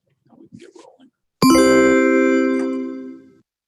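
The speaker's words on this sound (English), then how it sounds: "Love that chime." Meeting chime sounding once after brief low voices: a single loud, bright, bell-like tone that strikes sharply and rings on, slowly fading over about two seconds.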